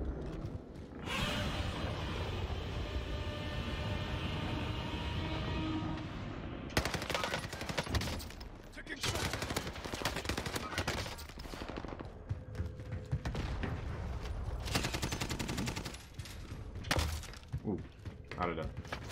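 Rapid automatic gunfire and bursts of shots in the Warzone video game from a Type 100 rifle, loud and dense with impacts and breaking sounds, under game voice lines and a player talking.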